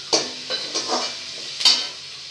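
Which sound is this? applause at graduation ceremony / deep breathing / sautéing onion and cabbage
sautéing onion and cabbage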